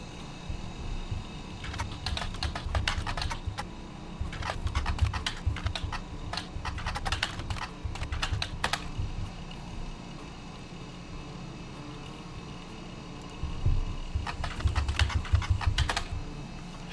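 Someone types on a computer keyboard in bursts of rapid clicking, separated by pauses, with a low background rumble and no speech.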